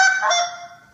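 A Cree Crusher goose call is blown in one loud, honking note that starts sharp and fades over about a second, alone with no talk.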